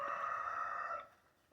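A single chicken call from a backyard flock kept with guinea fowl, one sustained, tonal, close-by cry lasting about a second before fading into quiet.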